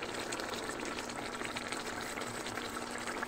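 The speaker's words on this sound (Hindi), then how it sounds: "थोड़ा सा बॉयल करना है इसे मीडियम हीट पे" Egg curry gravy thinned with water bubbles in a pan over medium heat, a continuous, even, close simmering fizz with no pauses.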